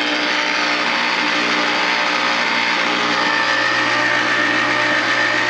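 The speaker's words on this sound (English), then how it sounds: "We'll let these spin around merrily for a while. My, it makes a lot of noise." Several ice cream makers churn together, filling the space with a loud, steady mechanical whir and hum that holds unchanged throughout.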